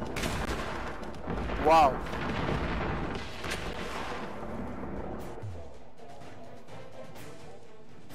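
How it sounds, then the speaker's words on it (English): Missile explosions in the combat video game Angels Fall First, a continuous rumbling barrage of blasts and gunfire with a loud burst early on, fading toward the end, with a brief spoken exclamation over it. "Mayday, too many missiles."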